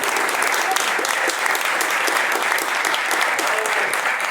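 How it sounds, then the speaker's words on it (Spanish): Audience applause at a book launch, steady dense clapping from a room full of people, sustained at even loudness throughout with faint voices underneath. "Así que antes que nada me gustaría pedir un gran aplauso para Johanna Watson desde Chile."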